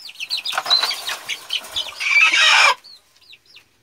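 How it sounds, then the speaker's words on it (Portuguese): An agitated laying hen clucks loudly and repeatedly in a chicken coop, with wings flapping and a dense burst of squawking before the sound drops to quieter clucks. "Muito brava a galinha, ela tá botando."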